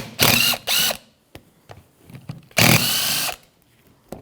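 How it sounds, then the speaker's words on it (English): A 14mm socket on a ratchet or power driver loosening brake caliper pins on a 2007-2017 Jeep Patriot's rear brakes: two short loud whirring bursts, a few metallic clicks, then a longer burst, close up. "we're going to take a 14mm socket, take the pins out and get the pads out"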